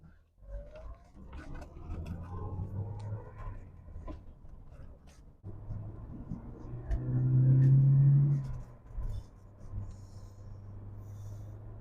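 A Mercedes 190E 2.3 16v Cosworth engine rumbles from inside the car under throttle, its low drone rising into a louder, sustained surge midway, with small clicks and rattles around it.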